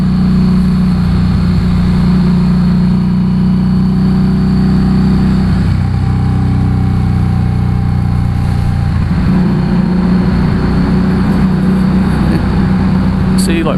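A 500cc motorcycle engine underway in traffic, a loud, steady droning hum that dips and then rises again, with someone talking over it throughout.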